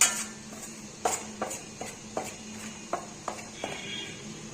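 Rice flour for Navaratri rice puttu stirred in a pan, a spoon scraping and tapping in a steady series of soft clinks and scrapes, close and alone.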